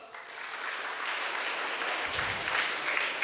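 A classroom audience claps for a student at an official launch event, with steady, moderately loud applause that builds slightly and continues throughout.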